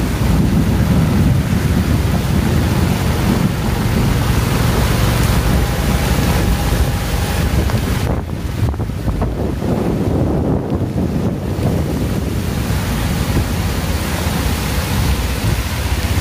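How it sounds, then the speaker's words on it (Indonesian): Heavy rain with strong wind in the town of Banjar, West Java, a steady, dense roar of rain and gusting wind buffeting the microphone, loud and unbroken throughout. "Ini hujannya memang cukup deras sekali."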